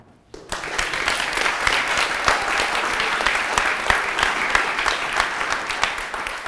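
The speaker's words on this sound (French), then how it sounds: "Il ne nous reste plus qu'à applaudir Fidel et Thomas." Applause from the audience at a mock trial event held in a Paris town hall begins abruptly after a brief silence, then continues as dense, steady clapping with occasional sharper individual claps.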